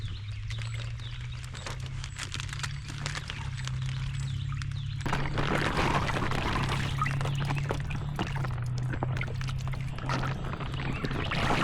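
Live fish dumped from a bag into a pond: watery splashing and sloshing that swells halfway through and continues, close and moderately loud, with no talk.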